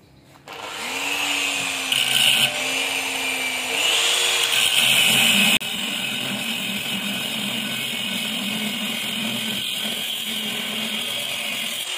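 A power tool grinds steadily through scrap cast iron, a loud continuous whine that shifts pitch and load partway through, then settles into an even droning cut for the rest.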